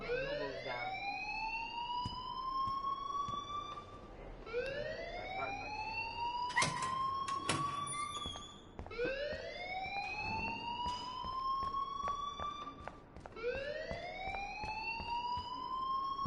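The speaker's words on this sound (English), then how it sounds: "please turn off that alarm since that's your job" A fire alarm blares inside the Life is Strange video game, looping a loud rising whoop about every four seconds in a steady, continuous cycle, with faint voices underneath.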